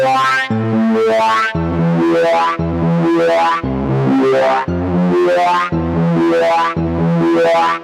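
A bright, sustained synth lead plays a repeating melodic phrase with long, washy reverb tails, loud and up front.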